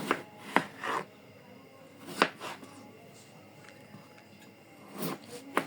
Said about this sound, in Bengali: প্রথমেই আলুগুলা কেটে নেব।